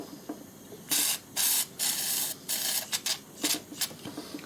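An aerosol lubricant is sprayed in repeated hissing bursts of varying length onto a record player's stuck spindle, each spray close and loud and separated by brief pauses, with no voices.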